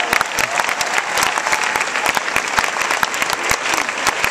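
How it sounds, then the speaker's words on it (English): Crowd at a women's caucus event breaking into loud, close applause, dense overlapping claps with sharp individual hand strikes sustained evenly from start to finish. "A round of applause for yourself."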